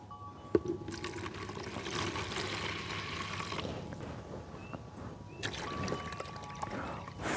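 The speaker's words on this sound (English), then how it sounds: "And we can start adding water." Water pours into a partly filled bucket sitting on a scale, a steady rushing trickle that thins out and then surges again, fairly faint with a light knock near the start.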